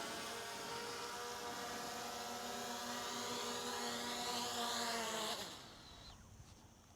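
A DJI Mini 5 Pro drone hovers nearby with a steady, high whining buzz of spinning propellers, holding even for about five seconds before cutting out abruptly into near silence.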